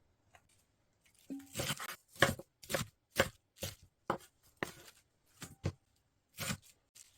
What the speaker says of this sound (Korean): 갈배추도 알맞은 크기로 잘라줍니다